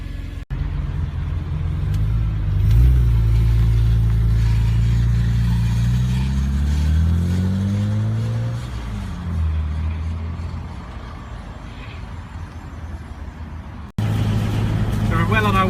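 A BMW E46 M3 CSL drives on a road test, its engine note rising and falling through gear changes over a steady tyre and road rumble, with someone talking throughout.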